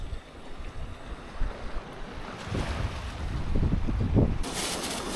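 Strong storm wind in İzmir buffets the microphone in loud gusts, with rushing water or surf close by on the seashore and no voices.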